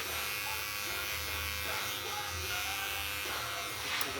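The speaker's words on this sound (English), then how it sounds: "I'd rather just tape this out with the clipper." An electric hair clipper buzzes steadily and close up while cutting and tapering a man's curly hair in a barbershop, a continuous motor hum with faint shifts as it moves through the hair.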